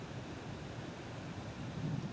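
Strong waves break on a shore and churn up foam, a steady broadband wash of surf that swells slightly near the end, with no voices.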